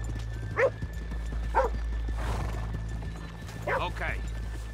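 Horses on a town street clip-clop steadily while one neighs, with a short dog-like yip and people talking quietly over a steady low hum.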